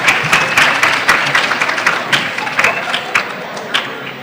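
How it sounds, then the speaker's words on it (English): Students at a senior academic assembly applauding the school's Bobcat TV team, lively clapping with distinct sharp claps that thin out and fade toward the end. "Go ahead and clap for your Bobcat TV, you guys."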